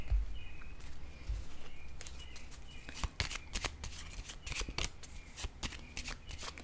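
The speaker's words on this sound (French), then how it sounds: "Je vais déposer une carte ici." Tarot cards are shuffled, handled and set down on a surface, with a run of soft rustles and several sharper snapping flicks, close and fairly quiet, with no talking.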